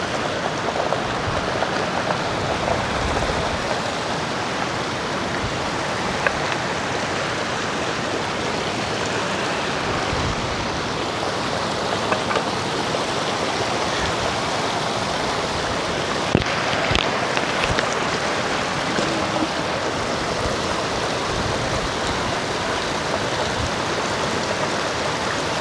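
Glacial mountain stream water rushing over rocks on a high-altitude pass trek, a steady, dense roar that fills the whole clip, close and continuous with no voices.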